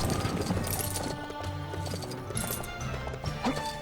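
Horse hooves clip-clop in the Wii game Lego Pirates of the Caribbean as a knight rides a white horse, a steady trotting patter under game music with a few crashes, no one talking.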